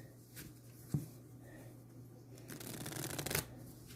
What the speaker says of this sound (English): and then shuffle it